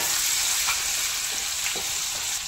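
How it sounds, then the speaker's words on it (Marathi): Garlic, cumin and ginger paste fries in hot oil for cauliflower and potato sabzi, giving a loud, continuous close sizzle with faint stirring scrapes. "1 चम्मच लसूण, जिरा आणि अद्रक याचा पेस्ट आहे। याला मस्त तेलामध्ये द्यायचं।"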